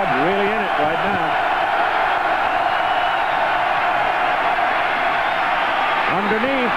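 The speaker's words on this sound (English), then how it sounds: "Crowd really in it right now" A college football stadium crowd cheering and roaring at a 1988 game between Miami and Michigan, a loud, dense, sustained wash of noise with a commentator's voice briefly heard over it at the start and end.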